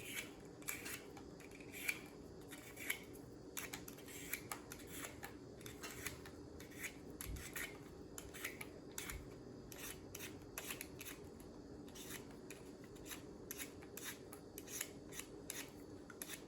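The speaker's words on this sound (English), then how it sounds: "I like peeling the beets because this way you don't have to worry about washing them." Large beets, about fist-sized, being peeled around their sides with a blade, making a steady series of soft, quick scraping and rasping strokes, close but quiet with no talking.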